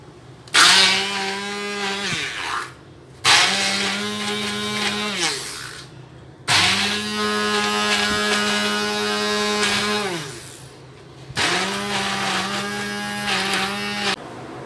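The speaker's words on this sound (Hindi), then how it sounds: "और इसको अब मैं कर लूँगी ब्लेंडर में ब्लेंड।" An electric blender whirs in four loud bursts while blending a kebab mixture, each a few seconds long with short pauses between, the motor pitch holding steady then winding down.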